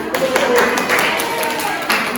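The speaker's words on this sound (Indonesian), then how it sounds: "Beri tepuk tangan untuk kelompok 4." Classmates clap for a presenting group in a university class session, a scattered, moderately loud patter of hands mixed with room noise and some talking voices.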